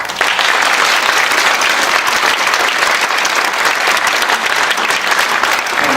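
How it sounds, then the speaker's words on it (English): Loud, dense clapping from an audience at the opening of a Jewish Refugees in Shanghai exhibit, sustained and even throughout with no voices on top. "I want to give you a special round of applause."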